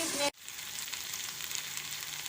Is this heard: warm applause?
no